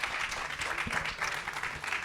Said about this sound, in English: Okay, so round of applause.